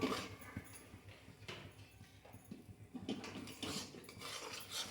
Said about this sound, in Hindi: मेरा कढ़ाई गर्म हो गया और इसमें मैं डालती हूँ सूजी। देखिए मैं इसको फ्राई करती हूँ।